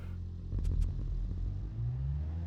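A late-1990s JDM sports car in BeamNG stalls off the line, its engine a low steady rumble with a brief louder surge near the start before settling into a continuous drone.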